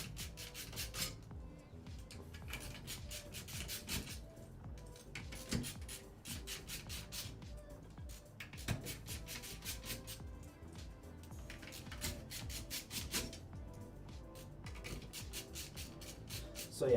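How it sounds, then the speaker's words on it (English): Screws being taken out of PC case fans during a desktop build, heard as repeated bursts of quiet rasping, scraping turns in short rhythmic runs broken by brief pauses, close but faint. "I'm going to take off the screws."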